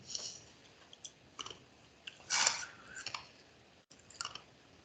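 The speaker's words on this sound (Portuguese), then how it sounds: "deixa eu mastigar um gelinho aqui." Ice cube being chewed close to the mic: several separate crunches and crackles, one louder crunch near the middle, and quiet gaps between bites. No talking.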